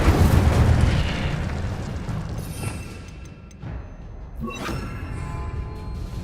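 Incendio fire spell cast in Hogwarts Legacy, a loud whooshing burst of flame at the start that rumbles and fades, followed by a few lighter crackles and a softer swell near the end.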